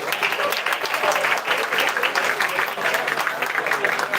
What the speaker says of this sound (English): clap students